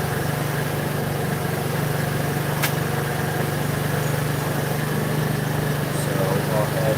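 A 125cc scooter engine idles with a steady, even low drone throughout, its idle running slightly high, alone and close by with no talk over it.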